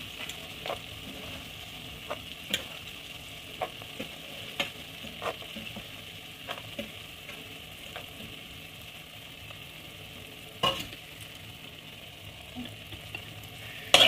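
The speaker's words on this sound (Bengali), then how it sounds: "মশলাটা একদম তেল ছাড়া অবধি এইভাবে আমি নেড়ে যাব।" Masala with tomato and peas stir-fried in oil for a mushroom curry, a steady low sizzle with repeated spoon scrapes and taps against the pan at a loose, regular rhythm, close by and without speech.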